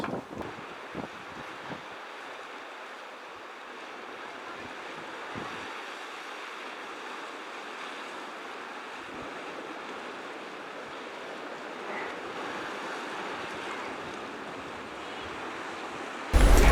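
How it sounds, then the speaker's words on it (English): Sea waves wash steadily against the rocks at the Forty Foot swimming hole in Dublin, a continuous broadband surf with light wind buffeting the microphone and no voices. "This is where Buck Mulligan flung himself into the sea in the first chapter of Ulysses, the 40-foot"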